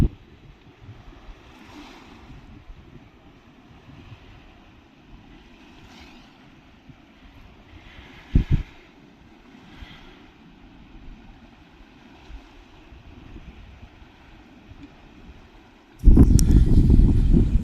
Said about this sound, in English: It's a really strong current, and it's flooding the boulders behind in a controlled manner.